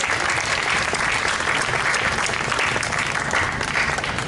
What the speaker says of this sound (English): they also deserve a round of applause